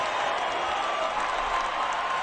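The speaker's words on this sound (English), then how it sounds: "To the applause of the Cardinal fans." Cardinal fans in a simulated 1946 World Series crowd in the OOTP19 baseball game applaud in a steady, distant wash of clapping and crowd noise with no talk over it.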